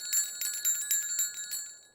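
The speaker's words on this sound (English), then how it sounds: "Well, look at this. Bells! How splendid." Small bells jingle on a toy-like ice cream cart, a quick run of bright, ringing chimes repeating in bursts over about two seconds, fairly close and alone with no talk.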